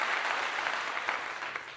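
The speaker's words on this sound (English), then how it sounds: "Let me give you a clap." A host claps for chat room viewers during a live show, a steady, dense run of clapping that sounds more like a crowd's applause, even and unbroken for under two seconds.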